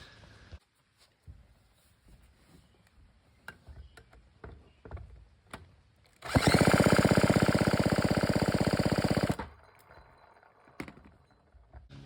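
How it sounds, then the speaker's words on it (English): A Homelite Super XL chainsaw engine with no spark is cranked over by a power drill for about three seconds, a loud steady whirring burst, with faint clicks and handling noises before and after. "I'm going to crank it over with the drill and see if we get spark"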